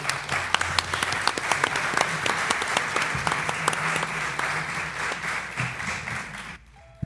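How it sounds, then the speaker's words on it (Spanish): A Spanish audience at a paranormal-themed talk gives sustained, lively applause for a speaker named Maika, with individual sharp claps standing out in the crowd, before the clapping cuts off abruptly near the end. "Un aplauso para Maika, por favor."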